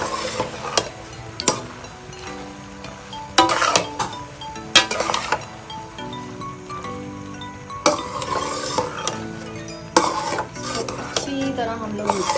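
Boiled pasta stirred into a spicy sauce in a pan for chicken pasta, with repeated clanks and scrapes of a utensil against the metal under a soft sizzle, close and uneven, with no talking.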